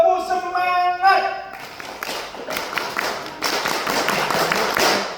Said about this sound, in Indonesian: Itu tepuk pramuka.